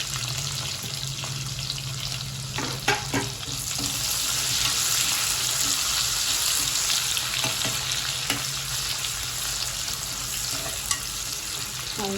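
Onion fries in a pan with a continuous close sizzle. Occasional scraping and stirring knocks punctuate it over a low background hum, with no speech.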